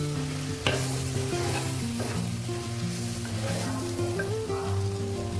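Sliced okra frying in a pan with garam masala, coriander powder and chilli powder, a steady close sizzle with occasional stirring scrapes and no talk.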